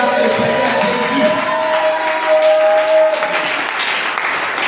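Congregation applauding to acclaim Jesus at an intense evening prayer meeting in Bingerville, a sustained wash of clapping hands and crowd noise with a held musical tone running through it.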